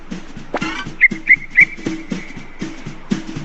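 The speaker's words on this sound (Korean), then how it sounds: "호루라기를 불며 뭔가를 열심히 휘두르고 있는 이 남자" A man blows a whistle on a rural eco-friendly farm: three sharp, sustained high-pitched blasts follow a brief rasp, then a long steady whistle tone holds, loud and close, over low background rumble.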